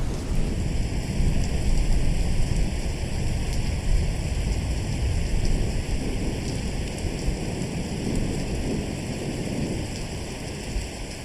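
Steady ambient rain pours continuously with low rumbling thunder rolling underneath, a dense, loud, unbroken wash of storm sound with no voices.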